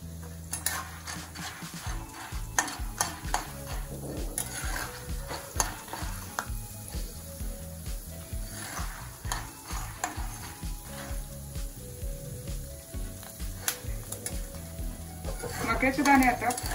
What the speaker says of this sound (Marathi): मक्याचे दाणे आता फुलायला लागलेत, आता त्यावर आपण झाकण ठेवूया।